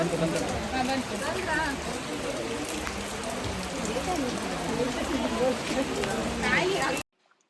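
Rain falls outdoors during a wedding turmeric ceremony, a continuous pattering wash close by while several people talk over it before the sound cuts off abruptly.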